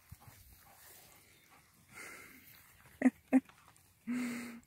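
Dogs playing, with panting, a couple of sharp yips or short barks close by, and a longer whine near the end, in a quiet small indoor space.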